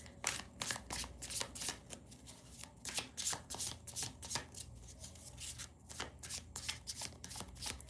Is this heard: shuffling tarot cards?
yes